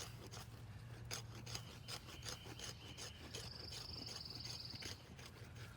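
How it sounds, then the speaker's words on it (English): Knife shaving curls off green hickory wood, making faint, quick scraping strokes over soft outdoor background noise with a brief high insect-like whine. "shavings coming off of this hickory"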